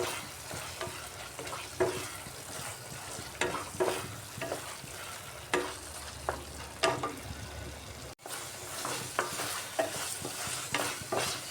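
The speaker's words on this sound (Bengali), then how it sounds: "আলুটা দিয়ে মশলার সাথে একটু কষিয়ে নিচ্ছি ভালো করে" Fried potatoes are sautéed with spice paste in a pan, sizzling continuously while a spoon scrapes and stirs in repeated strokes, close up and fairly quiet.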